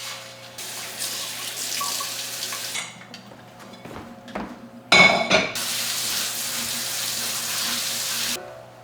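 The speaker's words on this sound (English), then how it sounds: "This one, however, I have to hand wash." Dish washed by hand under a running kitchen faucet, steady water hiss broken by a pause with brief clinks and handling sounds, then the flow resumes and cuts off.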